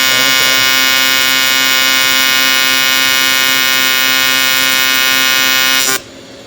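A loud, steady electric buzz with a harsh tonal hum from a TIG welding arc on aluminum holds continuously for several seconds, then cuts off abruptly near the end.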